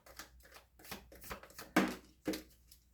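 A deck of cards is shuffled by hand, giving a few short riffling bursts and soft taps with quiet gaps between them, heard up close.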